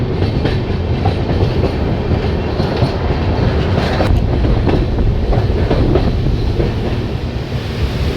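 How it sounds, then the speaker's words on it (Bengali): Tebhaga Express with new LHB coaches crossing the Farakka Barrage, a steady, loud rumble of wheels on rails with clickety-clack rhythm and faint squeals, continuous and close throughout. "ট্রেন ফারাক্কা ব্যারেজ ক্রস করছে"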